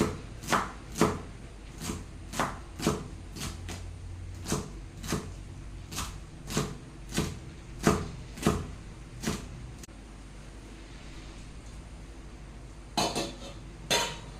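Knife chopping alasande cowpea beans for a curry, a steady series of sharp, close thuds on a cutting board, about fourteen strokes, then a pause before a final burst, no talk.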